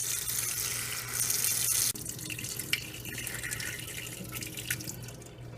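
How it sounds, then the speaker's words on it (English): Cold tap water runs steadily into a sink as sweet potato leaves are rinsed, a continuous close hiss and splash that drops and shifts partway through, with a few drips and small knocks. "Then rinse the leaves in cold water"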